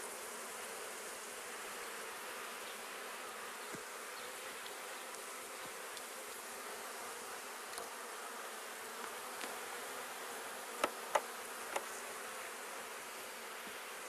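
Honey bees hum in a continuous low drone inside a beehive during overwintering, the buzzing steady and fairly quiet, with a few faint clicks near the end.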